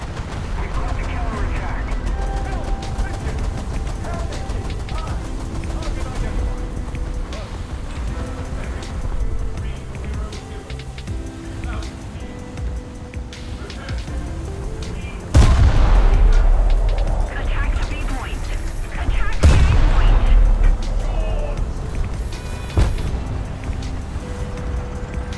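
Gunfire and cannon blasts from vehicles in the combat game War Thunder, scattered distant shots under engine rumble, with two loud nearby booms later on.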